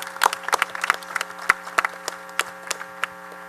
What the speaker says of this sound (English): Terrific applause for them.